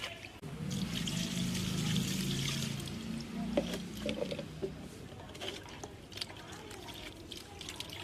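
Water pours and trickles into paint being mixed in a litre tin, a steady splashing pour for a few seconds that gives way to softer dribbles and small knocks, with faint voices around.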